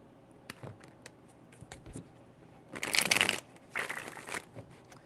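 Tarot cards are riffled and shuffled in two loud bursts, a crisp flutter lasting under a second each, preceded by softer taps and card handling, with no voice.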